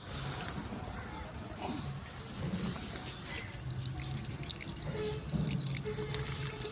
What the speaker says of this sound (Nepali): ल हेर्नु यो बाइकमा कस्तो तेलको ठाउँमा पानी नै पानी छ